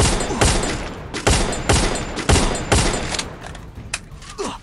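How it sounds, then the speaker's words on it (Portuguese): Video game gunfire rings out in repeated sharp bursts, loud and close, with about five heavy shots in a steady rhythm followed by fainter scattered fire. "Olha os caras atirando nele."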